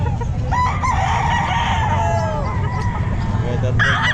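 A sweater gold gamefowl rooster crows several times at a busy Calumpit pet market, loud and near, with clucking and background crowd noise throughout.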